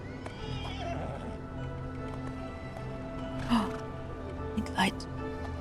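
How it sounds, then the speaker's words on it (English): A horse whinnies twice in the video game Sherlock Holmes: The Awakened, faint and distant, over a steady ambient hum. "You're a fine horse, aren't you?"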